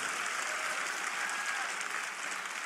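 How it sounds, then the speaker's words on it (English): A church congregation claps along during a sermon, a dense, steady wash of many hands from a crowd, continuous and fairly loud throughout with no clear break. "Clap your hands on that verse."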